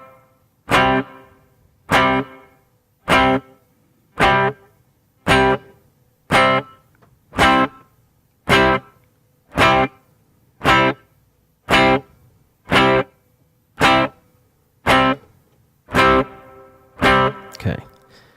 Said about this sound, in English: Next parameter is pre-delay. This is the amount of delay before the reverb tail starts.